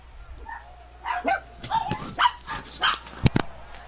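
A dog barks and yips in short irregular bursts, fairly close, over a faint background hum.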